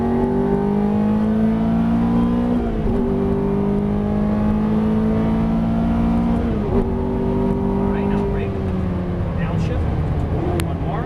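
A Ferrari F430 engine drones loudly from inside the cabin, pitch climbing as throttle goes on, dipping briefly twice as revs change between pulls; an instructor's voice talks over it.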